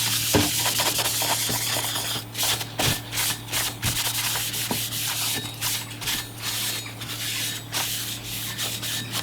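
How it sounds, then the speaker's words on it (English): A rag wipes oil off a metal CNC gantry bracket in repeated rough strokes, steady and close, with short pauses between passes and no talking. "that'll wipe that oil straight off"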